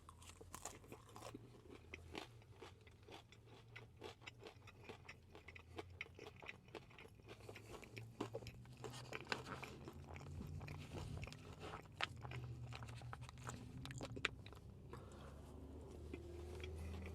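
Someone biting into and chewing Waffle House hash browns up close. Repeated crunchy bites and wet chewing run for the whole stretch at a quiet level, with no talk.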